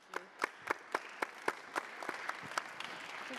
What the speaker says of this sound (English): I think we need a round of applause for the Secretary General.